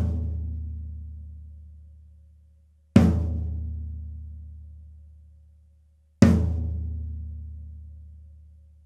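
Snare drum fitted with a Remo Starfire head and muted by a snare weight, struck three separate times at even intervals, each hit close and clear and then fading out slowly into silence.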